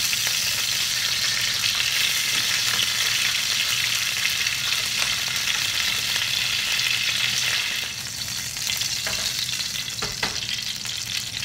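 Chicken pieces fry in hot oil for Guatemalan pollo guisado, a loud, dense, continuous sizzle close up, with occasional stirring clatter toward the end and no voices.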